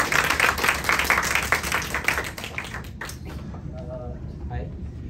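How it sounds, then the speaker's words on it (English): Audience clapping at a poetry slam event, a dense burst of applause from the crowd that fades after about three seconds, leaving scattered claps, faint voices and room noise. "Clap, clap, clap, everyone."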